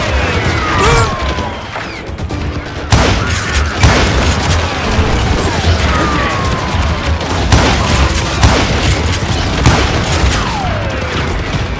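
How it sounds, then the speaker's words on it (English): Cannon fire in the Western shooter game Call of Juarez: Gunslinger, loud booming blasts repeating over about twelve seconds amid dense battle noise and crashing debris, with no talk. "They got a cannon, Billy shouted."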